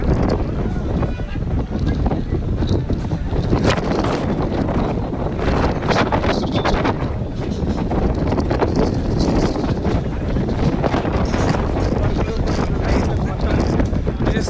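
Strong wind roars continuously across an outdoor public meeting venue at Jadcherla during rain, buffeting the microphone loudly for the whole stretch, with voices partly buried beneath it.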